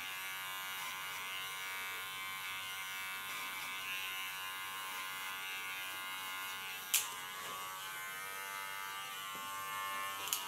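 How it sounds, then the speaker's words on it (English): A small electric hair clipper trims the contour line of a short pixie haircut, giving a steady close buzz with a brief sharp click near the seven-second mark. "Clean with a small clipper the contour line."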